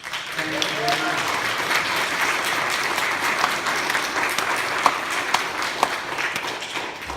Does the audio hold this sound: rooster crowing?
no